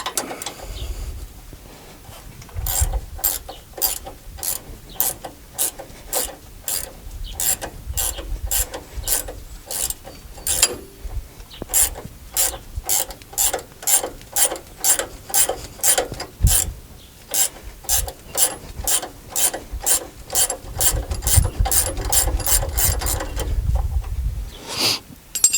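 A ratchet loosening a nut on the front suspension of a 2017 Ram 1500 4x4 during a drop kit install, with a long, steady run of loud, rapid clicks in repeated bursts, close up.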